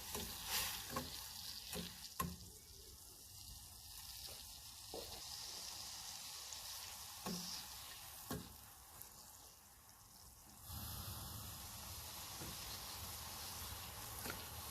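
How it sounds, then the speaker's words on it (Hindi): Jelly powder stirred into boiling water in a pot while making falooda, a steady scraping and bubbling sizzle running throughout with soft clinks, no talking. "इसको साथ साथ इस तरह हिलाते जाएंगे, मिक्स करते जाएंगे।"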